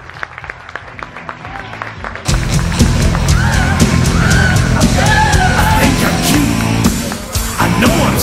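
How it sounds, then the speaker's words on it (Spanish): At a stand-up comedy show, an audience claps lightly, then breaks into loud applause with cheering and whistles that holds steady for several seconds. "¡Fuerte el aplauso para él!"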